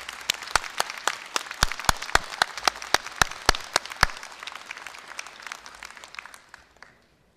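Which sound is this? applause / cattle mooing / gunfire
applause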